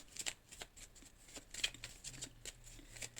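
Cards are handled and shuffled on a tabletop, producing faint, soft riffles and flicking snaps in quick irregular bursts, heard alone and close.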